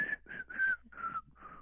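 A person attempts to whistle, producing five short breathy whistled notes with airy hiss around them, close and moderately loud, wavering and uneven in pitch.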